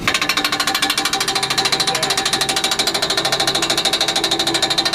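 A power hammer runs during tuning, pounding in a fast, steady, evenly spaced stream of loud metallic blows close by, with a mechanical hum underneath.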